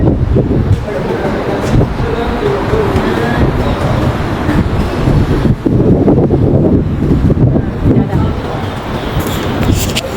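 Strong wind blows beside the open sea, roaring and buffeting the microphone loudly and continuously, with the wash of surf underneath.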